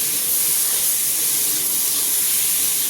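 Tomato hits a hot pan already holding turmeric, cumin and onion, setting off a loud, steady hiss of sizzling that stays unbroken the whole time.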